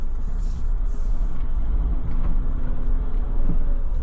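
A car drives along a narrow village road through a forest area in Manali, its engine a low, steady rumble close by with faint road noise and no talk over it.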